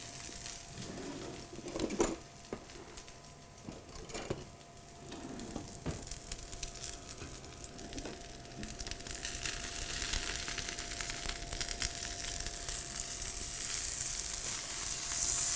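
Steak sizzles on a Greecho indoor smokeless grill, a faint, steady hiss that swells louder toward the end, broken early by a few scraping clunks as the meat is turned.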